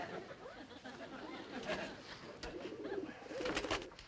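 A homing pigeon coos in soft, repeated throaty phrases close by, mixed with shuffling and a few sharp clicks and bumps in a room, with no clear talking.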